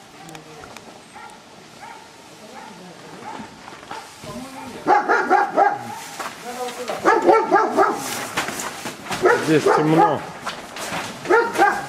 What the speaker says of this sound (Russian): Там собака бегает.